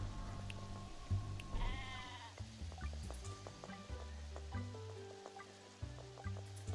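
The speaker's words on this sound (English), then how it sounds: "Also, I heard another sheep." Sheep bleating in the shop-management game Discounty, a short wavering bleat under steady game music with faint dripping and clinking effects around it.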